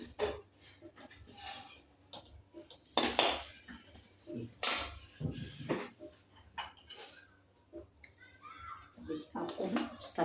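A spoon stirs a potato, fenugreek and gram-flour dish in a pan after the gas is switched off, giving scattered metallic scrapes and clinks, some bursts louder than others, while a voice talks in between.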